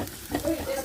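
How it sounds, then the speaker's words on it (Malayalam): Large sliced onions fry in a pan as they are stirred, a brief close sizzle with scraping stirs and a faint voice underneath. "വലിയ ഉള്ളി നല്ലോണം വറുത്ത്,"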